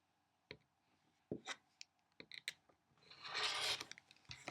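Fabric is sliced with a rotary cutter along a quilting ruler: a few sharp clicks and handling knocks, then a sustained, close scraping rasp of the blade running through the cloth.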